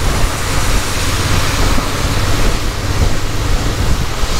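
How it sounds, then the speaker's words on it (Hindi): Cars ahead on a rain-wet road under a Delhi flyover throw a light spray of water from their tyres, heard as a steady, loud hiss blended with wind buffeting from a motorbike riding behind them, with no voices. "अब जो गाड़ियाँ मेरे से आगे जा रही हैं वो पानी की एक हल्की सी बौछार अपने टायरों से बिखेरती हुई जा रही हैं"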